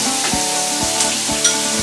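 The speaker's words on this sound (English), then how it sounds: "I got these frying now. My onions are about done" Onions frying in hot grease in a pan, a loud, continuous sizzle with a few soft scraping stir strokes, and no talking.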